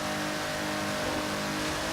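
GTA Spano engine in Forza Horizon 3, a steady loud mid-pitched drone with a slight rise in the revs across two seconds, with no voices over it.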